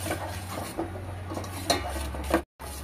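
Ground spice paste sautés in a pan over a medium flame for varan chakolya, with quiet scraping and stirring, a few soft metallic clinks of the spoon against the pan, and a low background hum.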